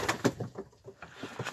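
Loft pigeons give a series of short, soft coos and throaty pulses at close range, repeating irregularly with brief gaps.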